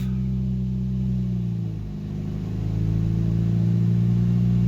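Toyota Yaris engine accelerating through the gears, a loud, close mid-pitched drone that dips briefly at a shift and then climbs again.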